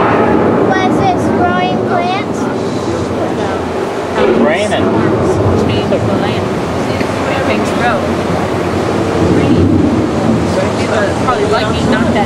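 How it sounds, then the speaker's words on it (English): A simulated storm effect on the Epcot Living with the Land boat ride at Walt Disney World, a loud continuous rushing roar like wind and pouring water, with a narrator's voice running over it. "The approaching storm may seem violent and destructive to us."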